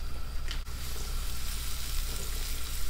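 Garlic, onion and tomato sauté in a pan, giving a continuous close sizzle and hiss with one short break early on.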